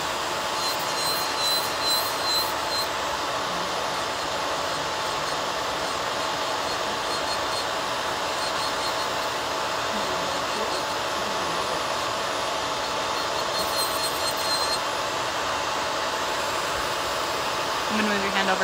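A SheMax nail dust collector runs with a steady, loud whirring fan hum throughout, a constant airflow drone with no breaks.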